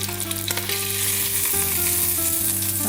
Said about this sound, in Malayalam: നമ്മൾ ചിക്കൻ റോസ്റ്റ് ചെയ്യാൻ വെച്ചത് ആയിട്ടുണ്ട്